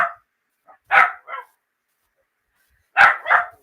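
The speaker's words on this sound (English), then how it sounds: "my one little dog loves to bark, bark, bark, bark, bark" A small dog barks sharply and close by, giving about five yaps in short pairs with silent gaps between them and no other sound.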